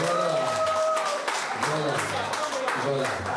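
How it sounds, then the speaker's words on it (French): A crowd applauds strongly at a charity lunch, continuous clapping heard beneath overlapping voices and tonal sounds running through the whole stretch. "On applaudit très très fort pour Madame Mortreil"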